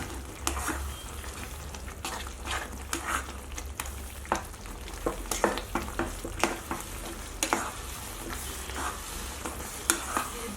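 Semolina upma being stirred in a pan over medium flame, a low sizzling hiss broken by repeated scraping and tapping strokes of the spoon at an uneven rhythm.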